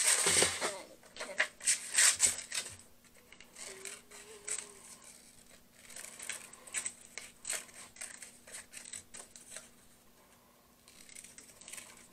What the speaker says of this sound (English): And I'm going to just cut out my circles.